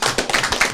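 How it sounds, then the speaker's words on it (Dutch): Brief burst of clapping from a small audience applauding parents at an indoor gathering, dense overlapping hand claps with no voices. "Even applaus voor de ouders."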